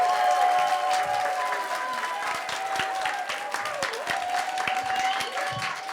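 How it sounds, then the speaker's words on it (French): A crowd applauds the young men and women of a BTS audiovisual class at a back-to-school news show in Montaigu. The clapping is steady and full, with a sustained tone and some murmuring underneath. "je vous demande un tonnerre d'applaudissements pour ces jeunes hommes et ces jeunes femmes"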